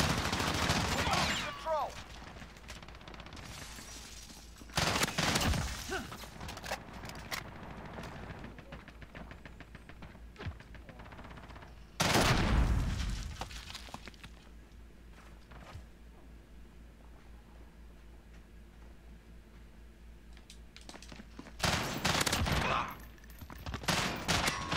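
Gunfire in the video game Modern Warfare, a few loud heavy bursts spaced several seconds apart over a steady low game background, with footstep-like shuffling between them.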